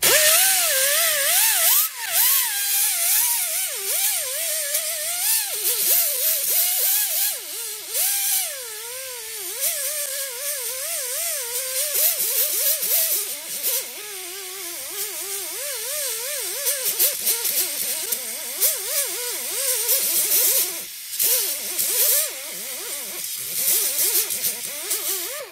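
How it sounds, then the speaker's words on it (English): A powered wire brush scours the center of a rear brake hub on a 2008-2019 Ford Taurus or 2005-2007 Freestyle/500, with a whining motor that wavers in pitch over a harsh, hissing scrape in close, repeated bursts. "Little wire brush action in the center here."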